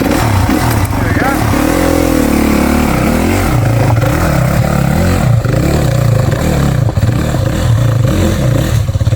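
A 2023 Yamaha WR 250 motorcycle engine revs loudly and close by, its pitch rising and falling through several blips with a continuous idle-to-rev drone and some mechanical clatter.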